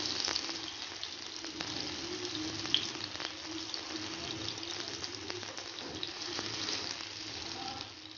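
Potato chapli kabab fries in a pan with a steady, even sizzle throughout, close and moderately loud, with no talking.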